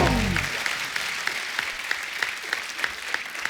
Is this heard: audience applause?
yes